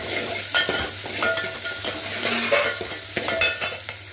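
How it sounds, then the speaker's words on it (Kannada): Sliced onions and green chillies fry in hot oil with mustard seeds, a close, steady sizzle broken by repeated scraping stirs of a spoon in the pan. "ಈರುಳ್ಳಿ ಹಸಿಮೆಣಸಿನಕಾಯಿ ಹಾಕ್ಬಿಟ್ಟು ಚೆನ್ನಾಗಿ ಸ್ವಲ್ಪ ಫ್ರೈ ಮಾಡಬೇಕು"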